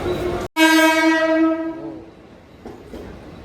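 A loud, close train horn blares steadily for about a second and a half at a station in Mumbai, then fades into the low rumble of a long-distance train.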